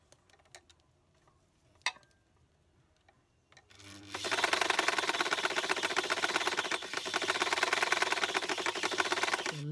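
A sewing machine stitching fabric: after a few quiet clicks and a sharp tap, the machine starts up and runs steadily with a fast, even mechanical rattle, close and loud, for the rest of the clip.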